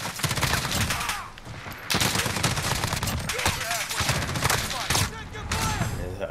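Rapid, loud bursts of MCX Virtus SBR carbine fire in Call of Duty Modern Warfare crackle almost without pause, with brief gaps between strings of shots.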